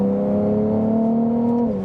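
A Ferrari 296 GTB's hybrid V6 drones steadily from inside the car at light throttle, a smooth, loud, even engine hum that dips slightly in pitch right at the end.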